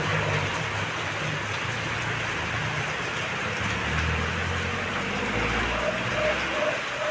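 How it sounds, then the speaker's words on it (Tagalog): Steady rain falls without letup over trees and planted mulberry and soursop on a stormy day, a dense continuous hiss close by with a low rumble underneath and no voices. "Yan, dire-diretso lang ang ulan."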